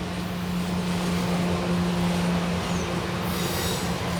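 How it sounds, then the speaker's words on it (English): A Branson Scenic Railway train rolls past with steady rumble and sustained metallic wheel squeal, loud and continuous throughout. "Oh man, that's like an Amtrak. Oh, that's the scenic railway there."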